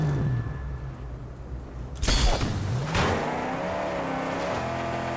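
A car in the Mad Max video game roars like a racing motorcycle, its engine revving and whining in pitch, punctuated by two sharp bangs, loud and close with no talking.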